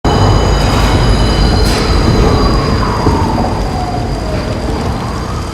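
A monorail train in a rainy Gotham city scene, a loud continuous rumble of rail cars with a long squealing wheel tone sweeping through and a hiss like rain underneath.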